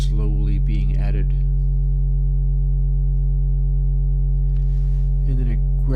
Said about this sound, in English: you hear the distortion components very slowly being added